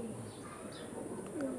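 A pigeon coos faintly against a constant background hum, with a short rising call near the end and no one speaking.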